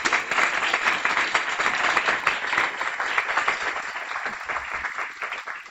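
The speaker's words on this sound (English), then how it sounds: "Please stand up so we can give you a big round of applause." An audience at a guide dog school graduation ceremony applauds volunteers with sustained, dense clapping that stays loud throughout and tapers slightly toward the end.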